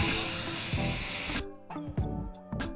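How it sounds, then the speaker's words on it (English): A continuous hissing spray from an aerosol can of cooking oil, coating a pan for cookie cups, lasts over a second and stops abruptly, followed by a few short, quiet bursts. "we're gonna spray this with some oil so that the cookie cups don't stick"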